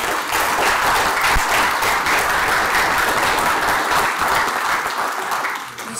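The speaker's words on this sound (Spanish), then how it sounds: "es poco el aplauso que dieron" An audience at a panel event gives sustained applause, a dense, even roar of many hands clapping that holds steady before tapering slightly at the end.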